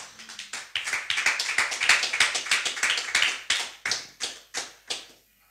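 A church congregation claps together in a steady rhythm of about twenty sharp, loud claps that quicken slightly, then thin out into a few final separate claps with no talking.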